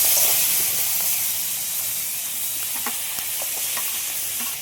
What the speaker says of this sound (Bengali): এবার কাঁকড়াগুলো দিয়ে আগে ভেজে নেব।